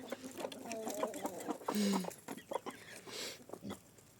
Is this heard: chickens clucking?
yes